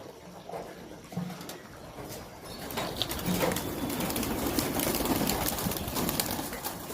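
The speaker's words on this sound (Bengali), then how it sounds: "তো আমি আমার কবুতর গুলো ছেড়ে দিলাম।" Pigeons released on a rooftop give soft coos at first, then a rustling, flapping wash builds and holds at a moderate level.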